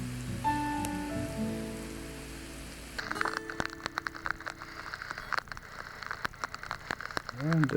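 Pouring rain falling outdoors, a dense patter of drops close by that takes over after a few seconds of musical tones at the start.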